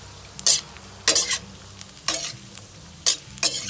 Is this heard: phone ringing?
no